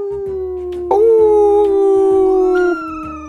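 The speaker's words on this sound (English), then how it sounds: "Little dog howling" A small dog howls in one long, wavering, rising-and-falling note, close and loud, preceded and followed by softer whimpering tones.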